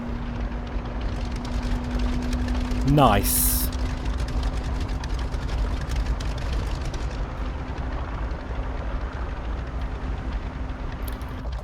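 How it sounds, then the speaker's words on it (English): A Norseman floatplane's big radial engine idles in a flight simulator game, a steady low throb running throughout with a brief rising whine near the start and a speaker briefly talking over it. "You really get that sound of that big radial throb of the engine."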